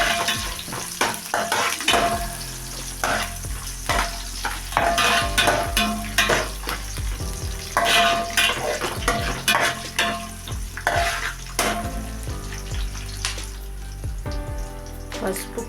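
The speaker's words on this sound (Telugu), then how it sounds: "ఉల్లిపాయ ముక్కలు, పచ్చిమిరపకాయలు, కరివేపాకు వేసుకుందాం. ఫ్రై చేసుకుని వేపుకుందామండి." Onions, green chillies and curry leaves frying loudly in a pan, steady sizzle punctuated by repeated scraping and knocking of a spoon as they are stirred, close up throughout.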